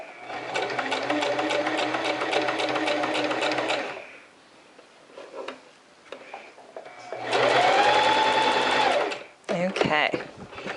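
Sewing machine stitching a bias bound fabric edge, a steady close humming drone for about four seconds, a pause with small handling sounds, then a second shorter run before a brief whir.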